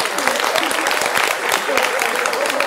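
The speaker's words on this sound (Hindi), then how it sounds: "जोरदार तालियां सापरा साहब के लिए" Vigorous audience clapping in a Hindi television election-debate studio, a continuous crackle of many hands at close range with no pause across its short span.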